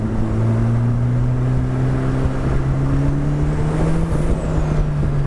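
Tuned 400+ BHP Honda S2000 with F20 engine accelerating from inside the cabin, a steady rising engine note droning loudly throughout.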